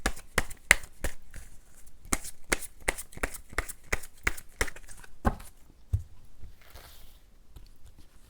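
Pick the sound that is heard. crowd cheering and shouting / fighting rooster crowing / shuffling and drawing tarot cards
shuffling and drawing tarot cards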